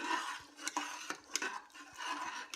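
A spoon stirs a peas and fenugreek leaf pulao mixture in a pressure cooker, giving repeated scraping and clinking strokes against the metal with soft wet shuffling between them, close and fairly quiet.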